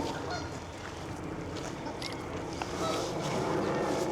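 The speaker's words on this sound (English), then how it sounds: "we're coming to a gaggle, I think it is, of geese, and they're just eating away." Geese feeding by the River Avon honk sporadically amid steady outdoor wind and background noise, with a few brief calls standing out over the constant rush.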